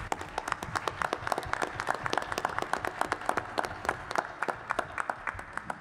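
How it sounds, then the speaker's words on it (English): Audience applause at an evening community session on the Black community and law enforcement, with steady dense clapping filling the room for several seconds and no speech over it. "Give him a round of applause."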